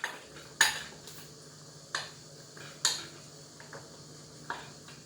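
A utensil stirs melting chocolate in a pot, making sharp, sparse metallic clinks and taps at irregular intervals over a low steady hum, close and fairly quiet.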